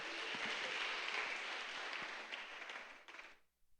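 A church congregation claps together during a service, a dense burst of applause that holds steady, then thins into scattered claps and stops.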